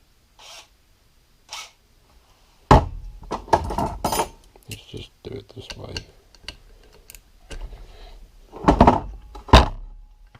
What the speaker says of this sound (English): copper washer up here that I'm now going to take off